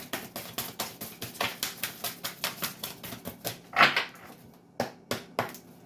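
Rapid rhythmic riffling taps of cards being shuffled, a quick flurry followed by a few separate snaps, close by with no talking.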